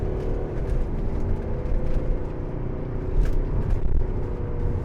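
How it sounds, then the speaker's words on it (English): A 2012 Mercedes-Benz SLK250 CDI BlueEFFICIENCY AMG Sport with a 2.1-litre diesel engine drives along. A steady low engine drone and road rumble are heard from inside the car, rising slightly toward the end, with no talk. "it sounds great for a diesel engine as well"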